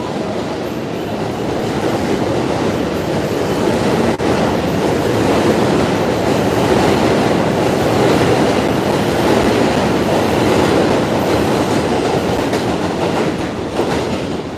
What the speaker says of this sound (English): So I'll wait for the train to pass before I start walking